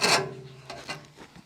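Hand-cutting wood for a monitor barn style chicken coop, a close, loud rasping stroke followed by a few quieter short scraping strokes.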